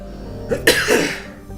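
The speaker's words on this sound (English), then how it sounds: "I'm so sorry about clearing my throat like that" A single throat clearing, a short rough burst up close, followed by quiet room tone.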